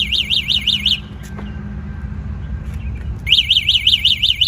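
Rapid, repeated high-pitched chirps in a bright warbling pattern, pausing briefly in the middle before resuming, over a low background hum.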